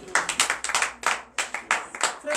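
A church congregation at a morning prayer service in Benin claps in acclamation, with bursts of sharp hand claps in uneven rhythmic groups, close and fairly loud, with a brief vocal sound near the end.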